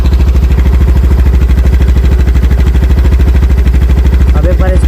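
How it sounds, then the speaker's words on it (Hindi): A Honda Dio 125 scooter engine idles close by, a steady, even putter with rapid regular pulses, running alone without revving. "देखो बाइक अभी स्टार्ट हो चुकी है और मैं अभी एक्सेलरेट नहीं कर रहा हूँ"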